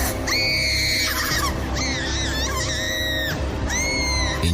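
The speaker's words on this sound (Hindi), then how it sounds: "सुरजीत की बेहोशी टूटी चीखों से।" Shrill, drawn-out screams of horror-story sound effects, several overlapping wails rising and falling in a loud, continuous burst over a low rumbling bed.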